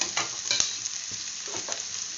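Corn and capsicum pieces frying in a pan, an even crackling sizzle close by with a few spoon scrapes and stirring knocks near the start.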